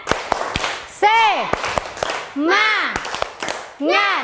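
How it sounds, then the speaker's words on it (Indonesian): A class performs a rhythmic spirit clap in a classroom lesson: sharp, loud claps in quick patterned bursts, alternating with chanted group voices between the clap groups. "Tepuk semangat."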